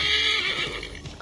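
A horse in Assassin's Creed 3 Remastered whinnies loudly and close, its neigh trailing off over about a second while galloping hoof clip-clops continue underneath.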